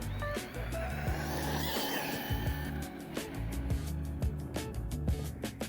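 An RC car with a 20-tooth pinion, 50-tooth spur gear and a 4S battery brakes hard, its tires skidding and scuffing in a series of quick, sharp bursts over a high, fading motor whine.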